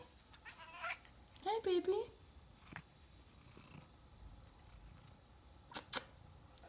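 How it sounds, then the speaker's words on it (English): A pet cat meows and purrs indoors in a short, close, wavering cry with quieter purring and small sounds around it, while someone speaks softly to it. "my cat is distracting me"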